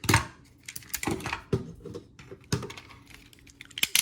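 A 2001 Transformers Optimus Prime plastic toy is handled and transformed, giving a close series of sharp clicks and snaps as its legs come off, with irregular bursts and pauses.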